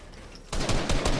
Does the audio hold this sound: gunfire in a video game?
yes